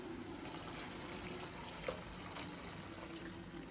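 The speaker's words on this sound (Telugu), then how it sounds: "ఇప్పుడు టూ హండ్రెడ్ ఎంఎల్ వాటర్ పోసుకోవాలి" Water, about 200 ml, poured into a pan of mushroom fried rice with capsicum, a steady broadband splashing stream running evenly throughout, close and moderately loud, with no talking.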